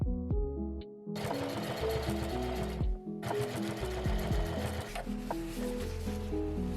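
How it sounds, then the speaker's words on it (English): A sewing machine top-stitches the open edge of a shirt sleeve cuff, a close, steady mechanical whir running in two long bursts separated by short pauses, with a few clicks in between. "I'm also going to open up the seam and then just do a top stitch to finish off this open edge of the cuff"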